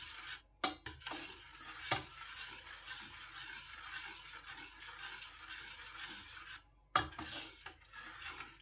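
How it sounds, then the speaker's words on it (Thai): Spoon stirring sago pearls in water in a pot, a soft repeated swishing scrape with a few sharper knocks against the pot, quiet and close with no talking. "ต้มสาคูนะคะต้องกวนตลอดนะคะใส่น้ำแล้วต้องกวนตลอดนะคะ"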